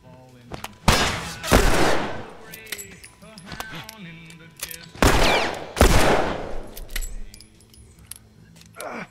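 Gunshots from The Last of Us Remastered in the Pittsburgh section: two clusters of loud, sharp blasts with ringing tails and metallic clatter, set against quieter game ambience and rustling.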